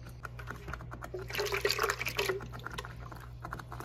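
Water splashes and trickles into a blender for a couple of seconds, faint and close, over a low steady hum.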